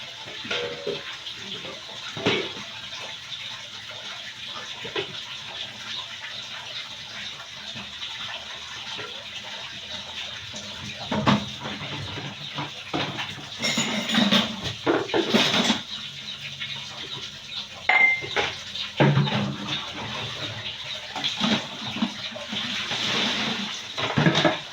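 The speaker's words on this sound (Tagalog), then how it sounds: "Mahugas sa plato guys." Dishes are washed under running tap water: a continuous splash and gush with clinks and knocks scattered through it, close and moderately loud, and no voices.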